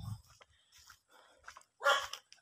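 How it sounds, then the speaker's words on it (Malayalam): A dog barks once, sharp and fairly faint, after a stretch of quiet with some distant murmuring voices. "ഇവിടെ എല്ലായിടത്തും തന്നെ പട്ടിയുണ്ട് കേട്ടോ"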